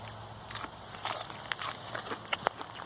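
Crisp crunching bites into fresh sugar snap peas picked in a garden, several short sharp crackles close to the microphone over a quiet outdoor background.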